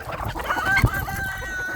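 Chickens on a farm with rare birds, clucking close by with a rooster crowing in a short outburst over a busy background of fowl.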